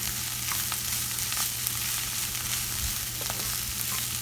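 Spinach frying in a pan gives a steady, close sizzle with faint crackles throughout and no talk.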